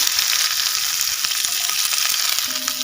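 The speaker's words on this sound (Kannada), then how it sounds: "ಈಗ ಇದಕ್ಕೆ ಒಂದು ಈರುಳ್ಳಿನ ಕಟ್ ಮಾಡಿ ಹಾಕ್ತಾ ಇದ್ದೀನಿ" Chopped onion sizzles steadily in hot coconut oil with curry leaves, a dense continuous frying hiss heard up close with no talk.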